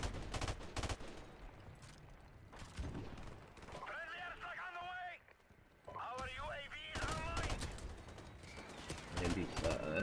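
Gunfire in the video game Call of Duty 4, with bursts of sharp shots near the start and end, plus some chirping game sounds between them, heard under a player's talk.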